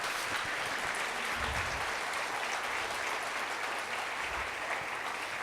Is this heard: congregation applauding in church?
yes